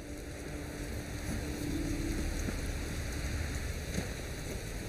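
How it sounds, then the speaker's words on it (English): Steady rain in The Witcher 3: Wild Hunt patters and hisses continuously, with a faint low hum underneath and no voices. "Looks like rain."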